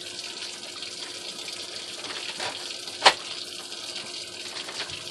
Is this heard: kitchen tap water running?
yes